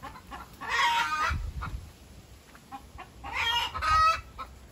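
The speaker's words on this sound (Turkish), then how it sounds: "Bu senin civcivlerinden arkadaşlar. Maşallah bakın kocaman olacak." Chickens cluck in two loud bursts with quieter calls between, close by in a hot-weather coop setting with young chicks and roosters kept nearby.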